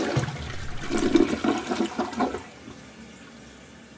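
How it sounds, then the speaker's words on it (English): A toilet flushes a laptop away, a loud close gushing swirl for about two seconds that drains off into a quiet trickle. "time to flush his laptop into the toilet"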